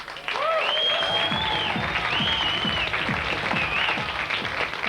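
A comedy club audience gives a comedian a loud, sustained round of applause and cheering as he is welcomed to the stage, with whoops and voices mixed into the dense clapping throughout.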